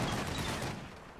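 Mortar strike in the woods in Combat Mission: Battle for Normandy, a dense crackling burst of distant impacts and rumble that trails off over about a second, with no voices.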